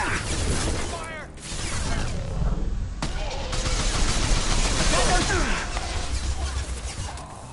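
Gunfire in a Mass Effect 2 firefight: sustained bursts and scattered cracks of weapons fire mixed with impacts and mechanical clatter, fairly loud, with voices talking over the fight.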